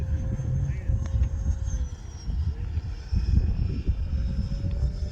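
A Freewing F9F Cougar radio-controlled model jet flies past in a crosswind, its engine a moderate whine and rush rising and falling over several seconds, with outdoor wind noise and people talking nearby.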